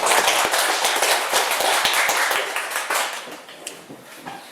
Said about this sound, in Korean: 감사의 박수로 시작을 하겠습니다